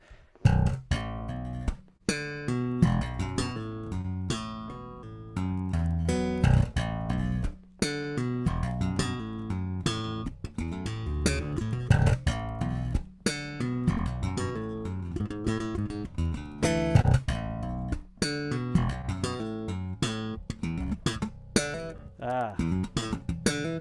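A bass guitar plays a slow, plucked riff, notes following one another steadily at moderate volume with no accompaniment.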